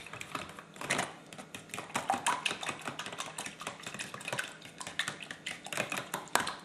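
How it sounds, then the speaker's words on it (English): A fork whisks a raw egg in a bowl while breading chicken parmigiana, giving rapid, irregular clicking and scraping taps that run steadily and close up throughout. "Now we're going to whisk that one up. Get that fork out."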